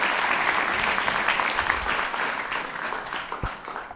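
Applause fills a talk at Lea Manor as an audience claps for a participant, a dense, lively round of clapping that gradually softens over four seconds.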